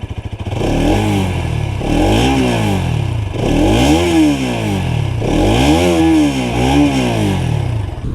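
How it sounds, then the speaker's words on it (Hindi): A Bajaj Pulsar NS 200 BS6 motorcycle revs up close, its exhaust rising and falling in three loud, sweeping throttle blips over a rough idle, with no talk. "तो सबसे पहले इस गाड़ी का एग्जॉस्ट नोट सुन लेते हैं।"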